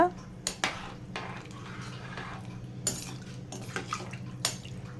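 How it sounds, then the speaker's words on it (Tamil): Rice being stirred into a pot for vegetable biryani, with a few sharp clinks of a metal spoon against the vessel over a steady low cooking hum. "இப்போது அரிசியை சேர்த்துக்கலாம் சேர்த்துட்டு ஒரு தடவை கலந்து விட்டுக்கோங்க"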